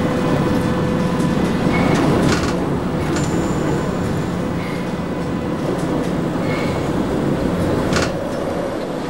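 Berlin U-Bahn U7 train in the Trainz 2004 simulator pulling into a station platform, giving a steady loud rolling rumble with faint tonal whines and brief metallic squeals, no voices.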